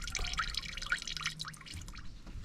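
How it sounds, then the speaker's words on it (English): Coolant draining from a Ford Fiesta radiator, heard as a quiet, uneven trickle and patter of dripping liquid that continues steadily throughout, no talk. "just allow that fluid to drain"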